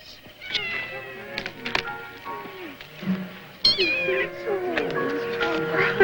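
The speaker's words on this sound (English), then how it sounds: "He found Miss Beth's kitten with an injured leg, and he mended it." An injured kitten mews repeatedly, high thin cries that rise and fall, while voices talk over and between them in an indoor scene.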